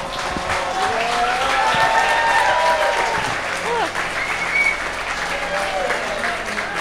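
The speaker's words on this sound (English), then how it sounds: "How about one more big round of applause for Natalie, everybody?" Wedding guests applauding at a reception after the maid of honor's toast, a sustained, lively round of clapping from a crowd with cheers and chatter mixed in.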